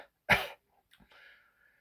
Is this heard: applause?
no